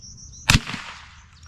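A single sharp gunshot from a .22 LR rifle fired outdoors at a target, a sudden loud crack with a short decaying tail, heard alone against quiet background.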